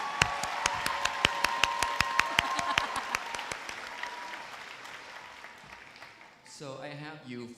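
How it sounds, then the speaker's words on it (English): Applause from the audience at a nursing school pinning ceremony, a steady wash of clapping with sharp louder claps standing out, fading gradually before a voice begins speaking at the close. "One more round of applause for Professor Fung Nguyen."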